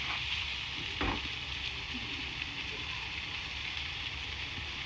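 Lamb and white bean stew being turned over in a pot with salt and black pepper, a steady close bubbling sizzle throughout with one brief scraping stir near the start, no talking.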